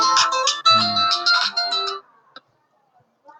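Phone ringtone melody plays loudly with tonal harmonic notes for about two seconds, then cuts off, followed by quiet clicks and a faint return of the tone at the end.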